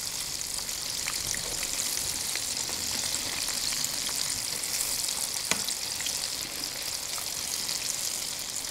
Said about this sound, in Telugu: పన్నీర్ మెజెస్టిక్ వచ్చేసి గోల్డెన్ ఫ్రై వచ్చేదాకా ఫ్రై చేసుకోవాలి.